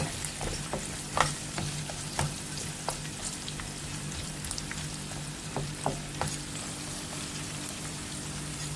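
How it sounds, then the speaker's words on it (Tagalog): Chinese cabbage and garlic stir-fried in a hot wok, a dense continuous crackling sizzle with frequent sharp ticks and spatters, close and steady for several seconds, no voices. "stir fry it just to give some fragrance with our Chinese cabbage"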